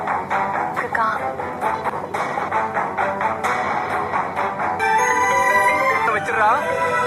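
A phone rings with an incoming call in a Tamil television drama scene, a bright repeating electronic ringtone that plays loudly over background music, with voices speaking in parts.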